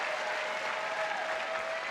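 A dense, continuous wash of crowd applause and cheering fills the stands at a 2019 European beach volleyball finals match between Norway and Russia, sustained and even at moderate distance.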